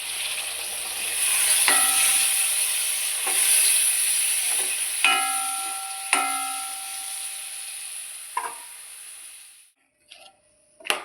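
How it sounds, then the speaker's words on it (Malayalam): Boiled jackfruit seeds are stirred into a meat curry in a pan over a steady sizzle, with a spoon knocking and ringing against the metal several times before the sound drops away near the end. "വേവിച്ച് വെച്ച ചക്കക്കുരു ഇതിലേക്കിട്ട് ഇളക്കി കൊടുക്കാം."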